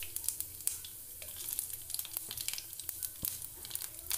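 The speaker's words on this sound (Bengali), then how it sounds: "এখন আমরা এটাকে হালকা করে ভেজে নেব যতক্ষণ না এর থেকে একটা সুন্দর গন্ধ আসছে।" Whole spices crackle and sizzle softly in hot oil: a split bay leaf, cumin seeds and dried chilli for a Bengali village-style chicken curry. The frying is steady and close, with no voices over it.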